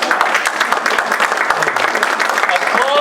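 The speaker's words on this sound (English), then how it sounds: "Applause at last." Audience applause after a poem at a poetry reading, a full steady burst of many hands clapping close by, with a few voices mixed in beneath.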